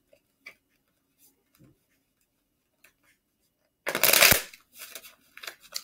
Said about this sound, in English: Let me go ahead and shuffle my cards and get to it.